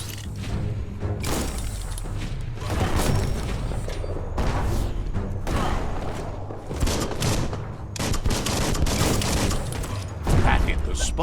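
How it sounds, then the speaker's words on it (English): Bomb lob explosions in the Biomutant video game, a run of heavy booms and thuds with gunfire-like bursts over a dense, loud game score, with someone talking throughout. "That's a bomb lob."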